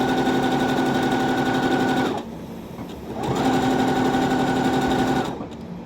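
A sewing machine stitching around a circle applique on red fabric, a loud close whirring hum in two runs separated by a short pause, then trailing off.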